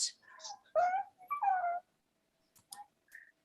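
A dog whimpers and yips in a few short, faint high cries close by, separated by brief quiet gaps.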